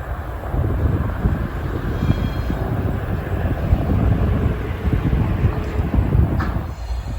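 A freight train locomotive makes switching moves while building its train, giving a steady, loud rumble with rolling rail noise and a brief high squeal near the end, heard alone without talk.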